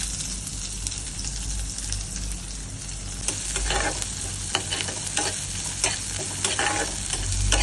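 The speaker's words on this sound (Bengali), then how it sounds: "প্রথমে আমি একটু কাঁচা লঙ্কা ফোড়ন দিচ্ছি, একটু কালো জিরে ফোড়ন দিচ্ছি, আর পেঁয়াজগুলো ভেজে নিচ্ছি।" Onions fry in hot oil with green chili and black cumin, a steady close sizzle with scraping stirs growing busier toward the end, no talk.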